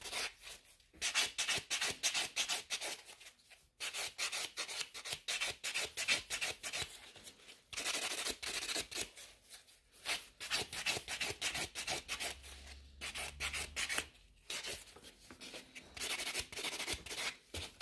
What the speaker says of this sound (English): You can see it when I'm filing around the cuticle areas.